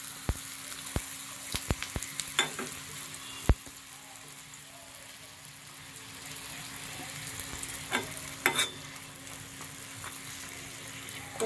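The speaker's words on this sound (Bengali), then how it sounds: "খুব অল্প তেলে লুচি ভাজা হয়ে যায়।" Luchi frying in a small amount of oil in a small kadai, a close steady sizzle with sharp crackles and pops scattered throughout, no talk.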